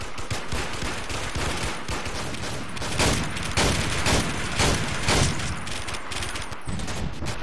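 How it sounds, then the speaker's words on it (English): Rapid gunfire from a shotgun in the video game Warmode rattles on without pause, dense and loud, with a few heavier blasts standing out from the continuous barrage. "I'm just testing this shotgun out"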